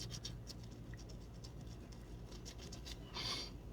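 Close, soft scrubbing of facial skin, a light rhythmic scratchy rubbing in short repeated strokes with a slightly stronger burst near the end, no voices.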